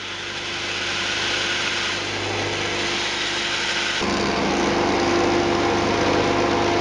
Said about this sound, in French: Je découpe la presse à la scie à ruban